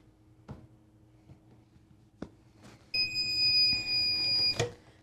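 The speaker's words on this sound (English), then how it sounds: "this should beep at 60 seconds." A sublimation heat press pressing a tumbler sounds its timer after 60 seconds, a loud, sustained high electronic beep that follows a few quiet clicks and handling knocks.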